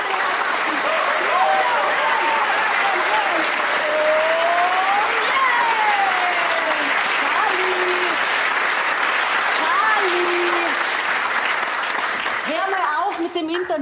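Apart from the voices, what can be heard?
audience applause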